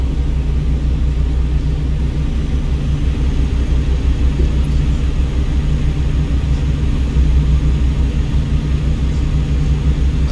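Deep, steady rumble of a heavy 80,000 pound truck in American Truck Simulator, continuous and loud with no distinct impact standing out and no talking.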